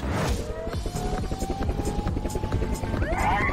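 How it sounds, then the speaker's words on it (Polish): A helicopter arrives with a loud, close, steady rotor chop and engine whine throughout, its pitch sweeping upward near the end. "Tatko, przyślij helikopter i to już."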